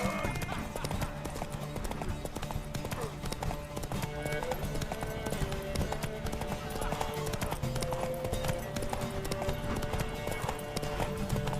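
Steady clip-clop of horse hooves trotting in a continuous rhythm in The Witcher 3: Wild Hunt, with game music and other effects layered underneath.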